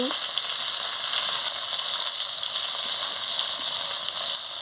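A pan of Bengali okra chorchori, with salt, turmeric and chilli powder added, sizzles and fries steadily throughout as it is stirred, a constant close hiss with no voices.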